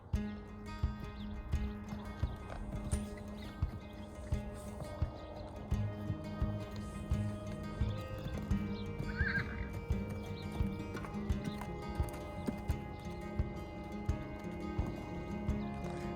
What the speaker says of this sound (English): he's kind of snorting this morning